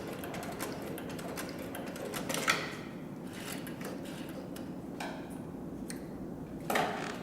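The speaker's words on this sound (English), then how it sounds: "in sewing these 3 layers of 2 to 3 ounce leather that the forward stitch and reverse stitch do in fact match perfectly" A Hightex Cowboy CB 3200 heavy-duty sewing machine stitches three layers of 2 to 3 ounce leather in reverse, producing a low steady mechanical rumble with faint ticking clicks and a couple of louder knocks, with no talking.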